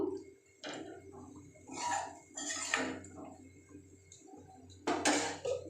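Spoon stirring coconut into chana dal in a metal pot, intermittent scraping and clinking strokes against the pot, close and moderately quiet, with short pauses between stirs.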